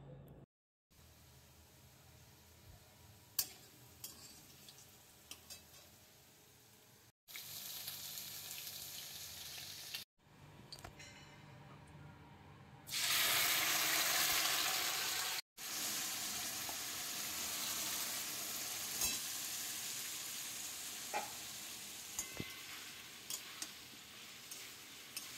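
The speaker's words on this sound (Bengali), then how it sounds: "আলু পটলটা আমার ভালো করে কষা হয়ে গেল" Potatoes and pointed gourd frying in a pan, a steady broadband sizzle with occasional stirring scrapes, growing louder in a bright hissing burst midway before settling back to a continuous fry.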